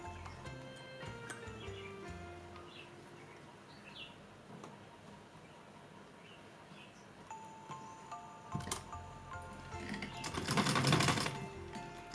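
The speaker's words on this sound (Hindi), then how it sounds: "दोनों साइड से इसे सिल देंगे" A sewing machine runs in quick ticking bursts as it stitches both sides of a small doll's dress, a clattering run building to a louder, denser burst near the end.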